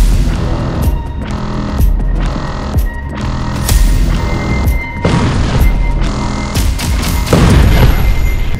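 Repeated heavy booms of missile strikes during the Iran–Israel war crash out one after another, each a sharp broadband blast followed by rumbling decay, loud and close with no talking.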